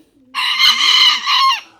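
Spangled hens letting out one sustained, raspy squawking call lasting over a second, close and clear, with a quieter pause before it and a brief tail at the end.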